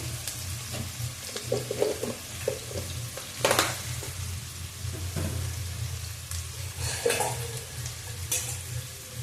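Food sizzles and crackles in a hot pan, with occasional stirring scrapes and clatters over a steady low hum.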